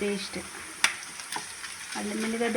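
Onions, green chilies and curry leaves fry in a pan for a bendakaya curd gravy curry, steady sizzling with a couple of sharp spoon clinks, as a voice speaks faintly over it at the start and end.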